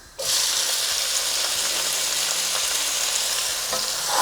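Chopped onions fry in hot oil with a cinnamon stick and cumin seeds for a chicken curry, giving a loud, steady, close sizzle that starts abruptly and holds throughout, with no talk.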